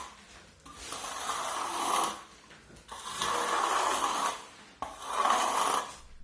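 A trowel edge scrapes across wet plaster on a brick wall to cut back high spots, three long rasping strokes of a couple of seconds each with short pauses between, heard close up.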